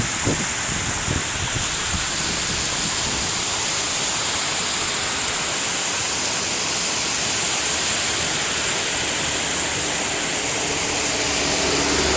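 A river flows as a steady, loud, broadband rush of water that stays unbroken for the whole stretch, with nothing else standing out.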